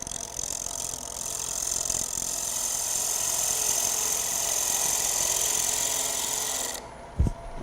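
A wood lathe cut with a half-inch U-shaped bowl gouge during a live turning demonstration: a steady, close hiss of the tool scraping the spinning wood over a low motor drone, ending abruptly with a brief knock.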